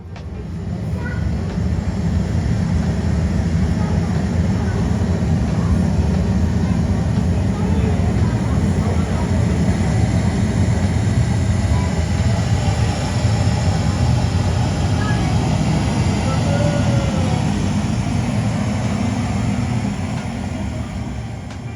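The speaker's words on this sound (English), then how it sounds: "And then they're doing sound effects like the plane's taking off," Simulated jet engines spooling up for takeoff fill a model airport exhibit in Hamburg, a loud, steady broadband roar with a low rumble that holds evenly from start to finish, with no speech over it.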